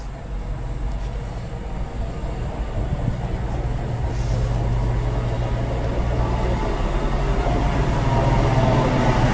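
A train idles at a busy station platform before a football match day outing, a steady low rumble with a hum throughout, the sound growing slightly louder over time with faint background activity.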